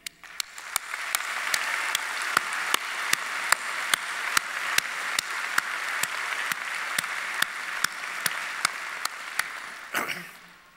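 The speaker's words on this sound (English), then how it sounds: "let's have a round of applause for all of you" A crowd at a medical school commencement claps steadily for the graduates, broad sustained applause. Louder single claps stand out at a regular rhythm, and the applause fades out abruptly near the end.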